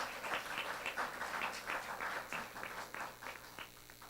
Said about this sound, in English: can we give a hand of just praise the Lord one more time with our applause?